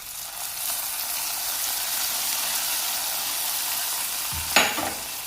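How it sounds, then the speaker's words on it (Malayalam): Hot oil with fried mustard seeds, shallots and curry leaves hisses in an even, close sizzle, then erupts in a sharp, loud burst as it is poured into a cucumber and mango curry, settling quickly afterward. "കടുക് വറുത്തത് കറിയിലേക്ക് ചേർക്കാം."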